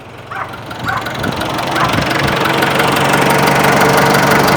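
A used Ford Ranger pickup's diesel engine idling, a steady rumbling drone with a regular knocking pulse that grows louder and closer, and faint talk at the start.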